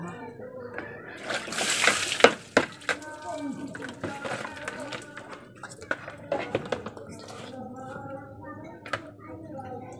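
Food is rinsed in water in a home kitchen before cooking, with splashing, sloshing and clinking against a pot or bowl in irregular bursts, close and moderately loud, with faint voices in the background.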